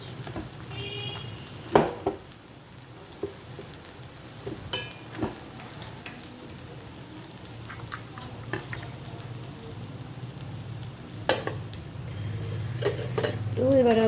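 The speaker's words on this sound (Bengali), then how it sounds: "আলু পেঁয়াজ দিয়ে যে আমি ভাজাটা করেছিলাম তার সঙ্গে চিড়েটা মিশিয়ে দিচ্ছি।" Soaked flattened rice being stirred into fried potato and onion gives soft intermittent scraping and clinks of a utensil against the pan over a low background hum, with a few sharper knocks; a voice talks now and then.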